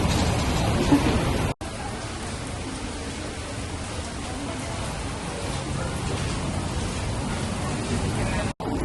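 Steady broadband hiss of rain falling on surfaces, continuous and fairly close, with faint voices underneath.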